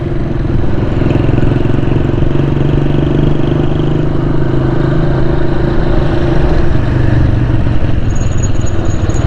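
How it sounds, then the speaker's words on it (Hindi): A motorcycle ridden on the road from Karimabad to Shaheed e Millat Road, with a loud, steady mid-pitched engine drone and rushing wind noise that run without a break at cruising speed. "मैं तो मोटरसाइकिल चला रहा हूँ"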